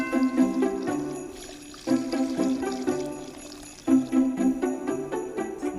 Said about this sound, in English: Leave to cool before pouring into a sterilised glass bottle.